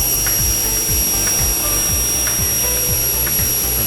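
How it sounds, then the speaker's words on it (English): A saw blade set against a fence slices through a Texture Plus faux brick wall panel, giving a loud, steady whine with faint rhythmic pulsing, close up, no voices. "We'll move the fence down to 34 and make another cut."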